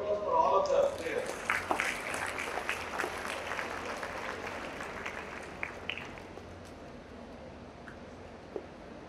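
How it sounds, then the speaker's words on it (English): An audience applauds the performers of a legal aid play at a college event, starting with a brief loud burst and then settling into moderate clapping that fades to sparse claps. "I think we must give a round of applause for all of the players."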